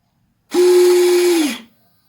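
A Kingmax SW22HV sail winch on an RC sailboat sheets in with a steady electric whine lasting about a second, close and loud, starting and stopping abruptly, with no talk over it.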